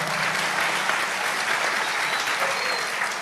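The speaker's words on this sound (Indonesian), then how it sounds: "tepuk tangan dong." Steady, dense applause fills the room from a large audience at a religious gathering, continuous and fairly loud throughout without any clear voices on top.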